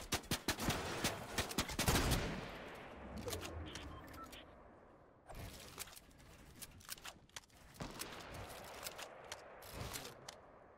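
Quiet video game gunfire: sharp isolated shots and short bursts crackling at the start, then scattered single reports later over a soft background.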